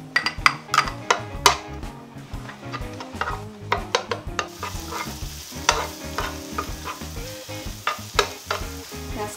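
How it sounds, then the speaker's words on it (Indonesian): Garlic being sautéed in a pan while making nasi tim, with steady sizzling and frying and repeated sharp scrapes and clinks of a utensil stirring against the pan, close and fairly loud, no talk. "sekarang kita tumis bawang putihnya"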